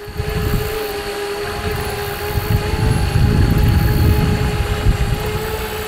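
A DJI Spark drone flies low over the Black River, its steady high-pitched propeller whine holding a constant tone, close and loud throughout, over a rumbling bed of wind and outdoor noise.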